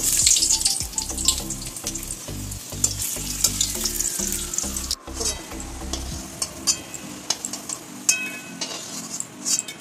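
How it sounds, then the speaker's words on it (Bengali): Large potato pieces fry in hot oil in a wok, a bright continuous sizzle with steady rhythmic metal scrapes and clinks from stirring, then quieter spitting as the stirring stops. "কড়াইতে ফার্স্টে তেল নিয়ে আমি কেটে রাখা বড় বড় পিস করে রাখা আলুগুলো আমি ভেজে নিলাম"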